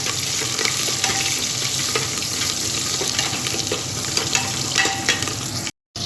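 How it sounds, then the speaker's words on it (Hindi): Onions frying in a pan with cumin and asafoetida, a loud dense sizzle that crackles without a break for several seconds, close by, with faint stirring and no speech, then a brief cut to silence near the end. "तो चलिए गाइस प्याज भुन चुके हैं और अब डाल देते हैं हम चावल।"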